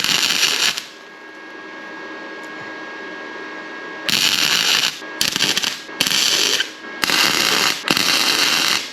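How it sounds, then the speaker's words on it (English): Arc welding on a steel bearing puller, crackling bursts in several separate runs of a second or so, loud and close, with quiet gaps between them. "It's welding very nicely."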